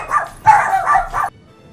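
Dogs bark and yip in three quick, loud bursts close by, followed by a short quiet tail.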